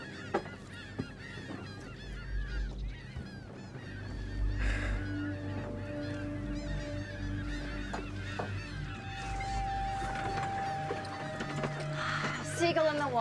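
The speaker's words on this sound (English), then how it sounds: "Seagull in the water." Gulls call over water near a beach, with repeated honking cries scattered through the scene, moderately distant, while people talk over them.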